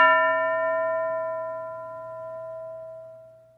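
A single bell struck once during a classroom English lesson game, a clear ringing tone that sustains and slowly fades over several seconds, alone with no talk.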